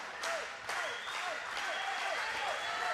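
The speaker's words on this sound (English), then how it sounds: "Crowd going crazy." Fans at a SoCal Pro Wrestling show in Vista, California clap and cheer steadily, with sharp whistles and shouts cutting through a continuous bed of applause at moderate loudness.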